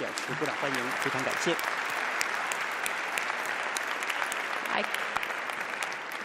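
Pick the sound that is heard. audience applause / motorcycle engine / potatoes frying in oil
audience applause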